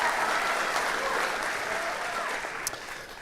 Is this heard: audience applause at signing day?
yes